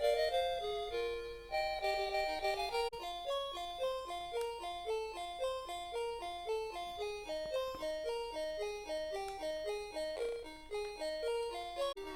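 Game music plays from a repaired Sega or Nintendo console, with its sound and volume control now working: a bright, bouncy melody of quick repeating electronic notes runs steadily, with no voices.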